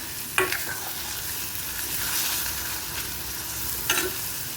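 Onion frying in a pan with a little salt, sizzling steadily and up close, with two brief scraping stirs of a spoon against the pan.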